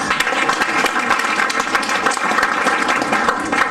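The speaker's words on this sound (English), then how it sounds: "Let's give them a round of applause." A comedy club audience on amateur night gives a dense, steady round of applause, loud and close throughout the short stretch with no voices on top.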